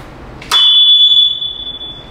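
A smoke alarm in a new house sounds after a brief click, holding one loud, piercing, continuous high tone close by that goes on to the end.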